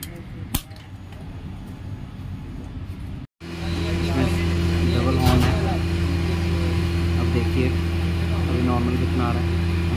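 A 2023 TVS Apache RR 310 E20 motorcycle is switched on after a brief cut to silence, then settles into a steady, close, continuous engine hum.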